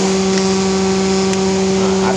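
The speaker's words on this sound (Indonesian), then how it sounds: "Nah, ini kipas masih muter." Car radiator cooling fan spinning, checked by hand with the engine running, a loud, steady droning whir with a constant low hum, continuous and close.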